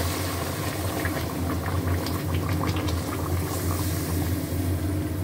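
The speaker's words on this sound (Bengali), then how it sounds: "এবারে জল দিচ্ছি" Hot water pouring into a pan of cooking chicken, a steady close rushing and bubbling wash of liquid lasting throughout with a constant low hum beneath.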